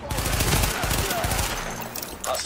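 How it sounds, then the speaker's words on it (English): Suppressing gunfire from The Division video game: a loud, dense stretch of rapid shots that thins toward the end. "This is suppressing fire."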